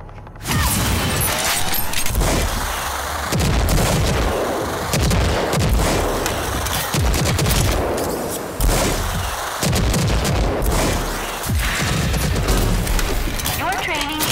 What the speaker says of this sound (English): Use the Smart Rocket Launcher's overdrive against the simulated enemies.